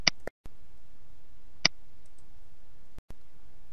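A computer mouse clicks sharply several times, a quick pair and a single click early on, then another close pair near the end, each crisp and isolated against near silence.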